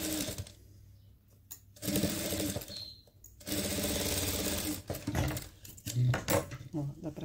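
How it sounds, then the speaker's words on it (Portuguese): An electric sewing machine stitching a seam on trousers, its rapid mechanical whirr running in long steady bursts with short pauses between, close and loud, while a person talks over parts of it. "Eu vou até passar uma costura, senão no alfinete não vai dar pra ver aqui"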